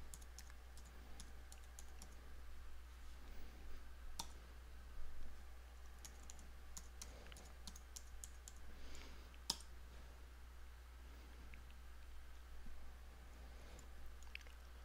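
A password is typed on a computer keyboard: soft, scattered key clicks in quick irregular runs with pauses, quiet and close, over a low steady hum.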